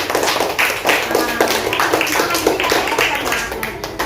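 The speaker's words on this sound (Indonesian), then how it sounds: "tepuk tangan untuk kelompok salah" Elementary pupils in a classroom clap in a quick rhythmic pattern to cheer a group, roughly a dozen crisp, close claps with a few voices calling over them.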